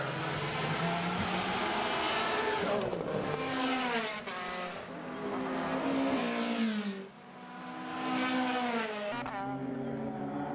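Formula race cars on the Mondello circuit roar past in repeated loud waves, their engines climbing and dropping in pitch as they brake and accelerate, with light tire squeal between passes.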